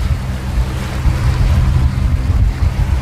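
A sailing boat moves through open water at about five knots near a rock, with a steady rush of water along the hull and buffeting wind, loud and continuous.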